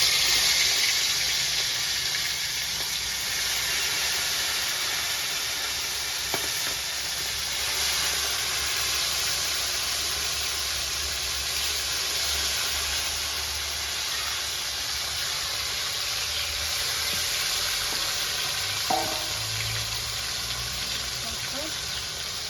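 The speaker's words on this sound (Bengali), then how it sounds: "এবার এক এক করে চিকেনগুলো কড়াই তুলে দেবো" Chicken pieces fry in ghee and oil in a kadai, giving a continuous broad hiss with a few faint knocks and clinks scattered through it.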